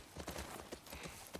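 Horse hooves clip-clop in The Last of Us, a quick run of distinct rhythmic hoofbeats, fairly quiet and close, steady across a brief stretch.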